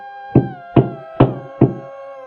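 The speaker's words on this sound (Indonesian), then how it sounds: "ketukan itu ada lagi." Four distinct knocks on a door, evenly spaced and close, each a sharp hollow thud, heard alone against a quiet background.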